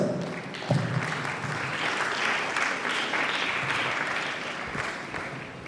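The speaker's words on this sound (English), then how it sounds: "Can we please give him a resounding round of applause?" A round of applause from an audience at a community engagement event on climate change adaptation: steady, full clapping across the whole stretch, fairly loud and even.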